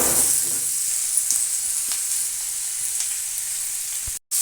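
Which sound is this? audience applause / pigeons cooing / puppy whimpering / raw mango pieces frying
raw mango pieces frying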